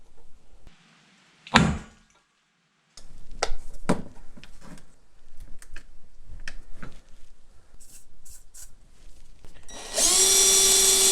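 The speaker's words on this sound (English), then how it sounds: "what we'll do is drill 1/2 inch holes" Several short bursts of a power drill spinning up and biting into material, drilling 1/2 inch holes, separated by handling clatter, ending in a sustained loud whir.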